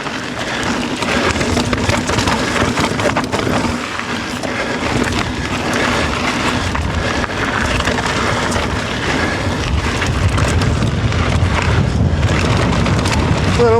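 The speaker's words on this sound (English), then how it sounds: "A little windy up here." Wind buffets the microphone on a rough mountain bike trail on Red Mountain, a loud continuous blustery roar mixed with rattling and crunching from the ride.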